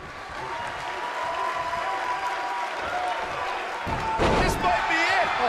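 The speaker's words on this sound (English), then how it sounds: "Hooked him up. Slammed with authority." A body slam hits the mat in a wrestling video game bout between Sabretooth and Dean Ho, a loud thudding impact late in the clip over a steady crowd roar, with a commentator talking throughout.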